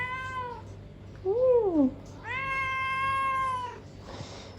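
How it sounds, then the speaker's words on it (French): A cat outdoors in Bali meows repeatedly, three drawn-out cries with one rising-and-falling, close and clear over quiet background, with a brief soft human murmur. "C'est normal qu'un chat miaule autant."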